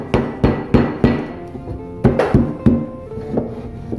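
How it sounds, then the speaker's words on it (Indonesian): Tuak yeast is pounded with a wooden pestle in a run of sharp, close thuds: two quick groups of about four strikes each, separated by a short pause, with no talking. "ini ragi tuaknya saya tumbuk menggunakan tumbukan khusus, tumbukan kayu ya"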